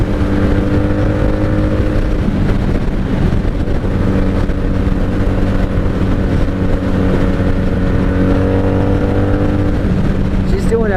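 Steady 1997 Honda Magna VF750C motorcycle exhaust drone on a highway, running on bad fuel from the carburetors, with constant engine harmonics and wind rush, loud and close, holding an even cruising rumble throughout.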